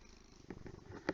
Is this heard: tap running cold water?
no